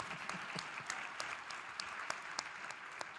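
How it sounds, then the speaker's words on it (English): Audience applause at a plenary session honoring a longtime foster mother: dense, steady clapping from a large room, moderately loud and continuous, with scattered sharper individual claps standing out. "Clap it up for mama."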